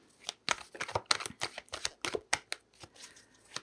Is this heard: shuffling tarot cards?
yes